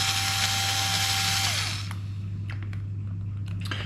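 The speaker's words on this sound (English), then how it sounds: "just pop these screws back out" A power drill whines steadily as screws come out of a beadlock wheel on an off-road RC truck, then stops abruptly and leaves a low hum with a few faint clicks.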